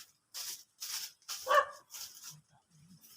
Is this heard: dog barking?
yes